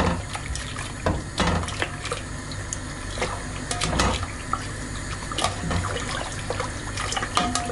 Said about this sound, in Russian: Просто кидаем кальмара в кипящую воду и наблюдаем, как кожа сама слазит.